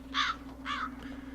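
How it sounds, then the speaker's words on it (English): A crow caws twice in quick succession, a harsh, fairly close call that starts suddenly over a faint steady hum in an otherwise quiet indoor space, with no talking. "I just wasn't expecting the bird to start geeking out on me"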